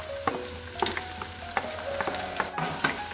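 Papaya flowers with green chillies and bird's-eye chillies stir-fried in a pan, a steady close sizzle punctuated by regular spatula taps and scrapes against the pan, about six strokes, with no talk.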